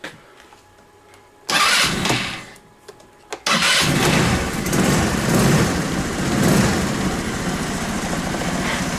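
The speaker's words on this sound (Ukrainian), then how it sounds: "Ну, моторчик робить добре." A Spark SP 125S scooter with a freshly cleaned carburetor sputters through a couple of start attempts, then catches and keeps running in a steady, close, buzzing idle.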